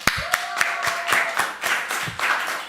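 A small church youth congregation claps for quiz winners at an awards moment, with sharp, spaced claps in a loose rhythm, close and fairly loud, and a brief voice sounding over the start.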